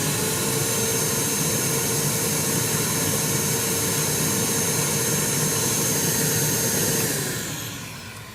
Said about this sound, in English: The extractor operates at less than 70 decibels